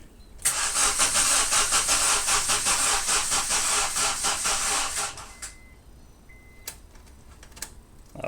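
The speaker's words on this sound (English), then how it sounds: "I try to start it and it doesn't work" An engine cranks in a fast, steady rhythmic chug for about five seconds after an engine harness replacement, never catching, then falls silent apart from faint clicks and shop noise.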